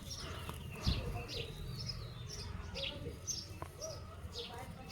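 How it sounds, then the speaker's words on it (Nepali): Small bird chirps come as short, scattered calls over an outdoor backdrop that mixes rustling and murmured talk, under an open sky. "कुन चरा हो यो फेरि?"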